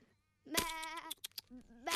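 Several wavering sheep bleats close by, loud and nasal, separated by brief pauses, with another bleat starting at the end.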